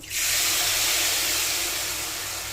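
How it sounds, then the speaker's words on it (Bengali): Spice paste dropped into hot oil in a kadai (wok) after black cumin seeds were tempered, bursting into a loud, continuous sizzle and hiss that holds steady and eases slightly toward the end. "আর এখন আমি এটা দিয়ে দেবো পেস্টটা তেলের মাঝে"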